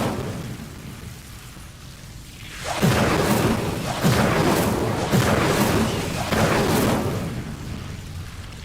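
Incendio fire spell cast in a wizard video game, bursting in with a loud whoosh and a series of four or five rumbling, boom-like flame surges that roar on for several seconds.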